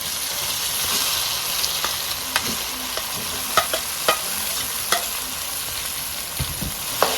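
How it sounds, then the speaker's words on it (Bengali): Boiled elephant apple being stirred into hot oil with fried whole garlic and green chilies for a sweet-sour pickle, with steady sizzling and scraping stir strokes up close, no talking. "চালটা দিয়ে ভালোভাবে তেলের সাথে মিশিয়ে নিন।"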